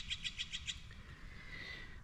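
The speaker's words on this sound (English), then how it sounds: "Sounds like a bird that's not too happy." A bird in a garden calls in a quick run of five sharp, high chirps, then gives a thinner, drawn-out whine. The calls sound agitated and carry over a low rumble of background noise.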